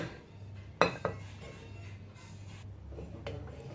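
Hot chicken pasta is served onto a plate, with two sharp utensil clinks against the dish early on, then quiet scraping over a low background hum.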